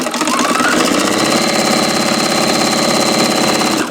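A sewing machine stitches a half-inch seam through quilting fabric pieces, running loud, close and unbroken as a dense mechanical hum and rattle. No one talks.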